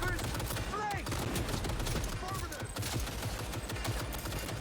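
Rapid, continuous turret gunfire in the Cyberpunk 2077 video game, a dense fusillade of overlapping shots that fills the whole moment, loud and unbroken.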